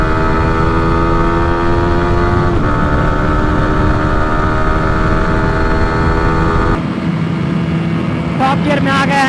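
Yamaha R15 V4 and KTM RC200 motorcycles in a drag race, engines droning loud and steady at high revs with a sharp change in pitch partway through, like an upshift into top gear.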